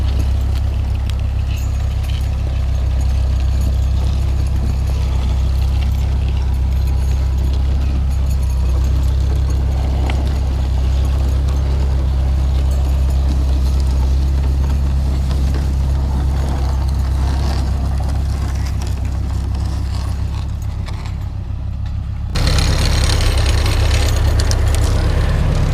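Farmall Super M tractor working in snowy woods skidding logs, its engine droning loud and steady at close range for the whole stretch, with a brief shift in tone near the end and no talk.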